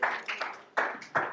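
Bursts of audience cheering and clapping greet actors entering during a church service, rising in three loud swells with brief dips between.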